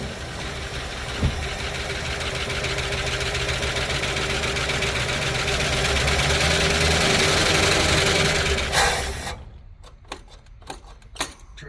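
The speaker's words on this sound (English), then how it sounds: "Let's crank it up." A 1972 Plymouth Fury engine churns over and runs steadily with a low, rough drone for about nine seconds before cutting out, leaving a few scattered clicks and knocks in the quiet.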